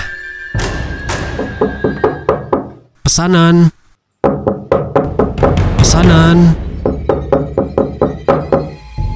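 A hand knocks on a house door in repeated bursts of sharp raps, loud and close, interrupted by a voice calling out in Indonesian.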